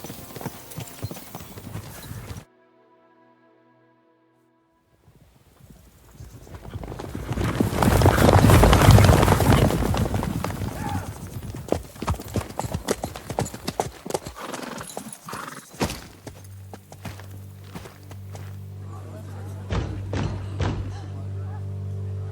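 Horse hooves clip-clop in a medieval video game, with a steady run of close hoofbeats, an occasional whinny and game music underneath, after a brief silent gap near the start.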